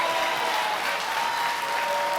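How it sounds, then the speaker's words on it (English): Audience applause at an evening event honoring Matt Ryan, greeting former Louisville receiver Harry Douglas; full, steady clapping from a sizable crowd, loud and continuous with a faint tonal hum beneath. "let's everybody give a round of applause for Harry Douglas"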